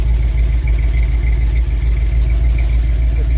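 A car engine idles steadily at the exhaust after an ignition tune-up, a loud, close, low rumble with an even pulsing beat and no talk over it.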